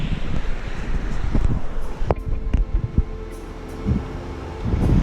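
Steady outdoor wind rushes and buffets across the microphone, with a few sharp knocks and thumps mixed into the gusty roar.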